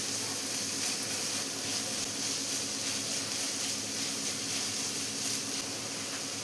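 Chopped green chili sautés in a hot pan for green peas egg masala, a steady, even sizzle and hiss that stays constant throughout without pauses.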